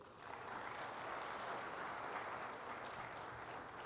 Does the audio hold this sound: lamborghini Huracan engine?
no